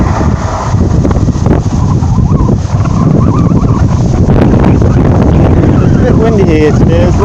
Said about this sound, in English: Passing now is a Trans-Pennine Express service to Newcastle